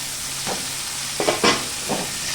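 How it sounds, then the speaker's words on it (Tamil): Tomatoes fry in hot oil for a bitter gourd tamarind curry, a soft continuous sizzle with three or four brief stirring scrapes against the pan, close and without talk. "தக்காளி நல்லா வதங்கட்டும்"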